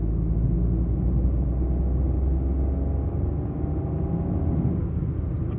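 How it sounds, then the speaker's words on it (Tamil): Steady engine drone from a 2024 Maruti Swift running in third gear after an upshift, heard from inside the car as a continuous low rumble with road noise and no talking. "தேர்ட் கியர் அப் ஷிஃப்ட் ஆயிடுச்சு."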